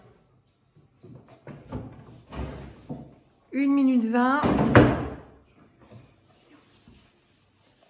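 Drawers are yanked open and pushed shut during a hurried Halloween search, a series of knocks and thuds that sound close. Voices talk around them, including a short drawn-out vocal outburst in the middle.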